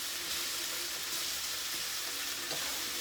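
Yakisoba noodles sizzle steadily in a hot pan while being loosened and stirred, with a continuous close frying hiss and faint scraping, no talking.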